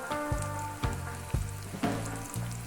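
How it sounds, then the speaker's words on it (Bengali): Potatoes for aloo kobiraji pakora frying in hot oil give a close, soft sizzle, with a steady hiss broken by several evenly spaced clinks, as if a spoon is being stirred, under a low background hum. "আমি এটা আলুটা খুব সুন্দর করে ভেজে নিয়েছি, এরকম লাল লাল করে ভেজে নেব"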